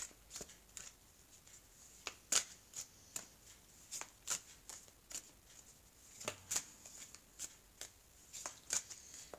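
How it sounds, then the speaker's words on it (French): Oracle cards being shuffled by hand, a steady run of crisp riffling snaps and soft card slaps close by, repeating in short bursts with no talk. "Donc je vais mélanger les cartes"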